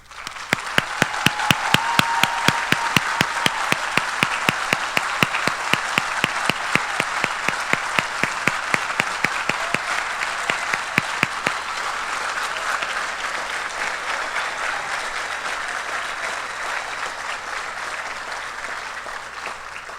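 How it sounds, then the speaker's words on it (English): A crowd at a high school senior awards night applauds veterans who have stood to be recognized. The clapping is loud and full, with a few sharp individual claps on top, and holds steady for about twenty seconds before easing slightly. "please stand so that we may give you a round of applause to recognize your outstanding contributions to our country"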